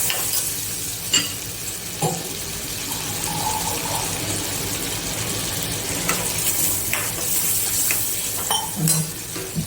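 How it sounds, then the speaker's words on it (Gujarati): Water is poured into kala chana shak, Kathiawadi style, as it cooks in a pan. A close, steady sizzle and bubbling runs throughout, with a few clinks of a spoon or vessel and no speech. "થોડું પાણી ઉમેરીશું આપણે આમાં."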